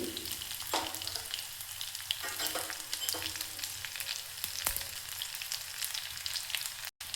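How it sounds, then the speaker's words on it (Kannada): Crushed garlic and one or two Byadagi chillies with mustard and cumin seeds sizzle steadily in hot oil for an Andhra-style spinach dal, a continuous close crackle with occasional stirring scrapes and no voices. "ಈ ಬೆಳ್ಳುಳ್ಳಿ ಚಟ್ಪಟ ಆದ ನಂತರ"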